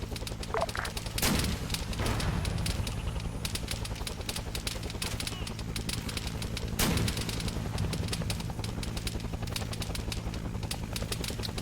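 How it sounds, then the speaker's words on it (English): In Arma 3, on a Vietnam-era battlefield, rattling automatic gunfire continues without a break, with a couple of heavier booming blasts, dense and loud and with no clear talking over it. "Bill, you're taking RPG fire."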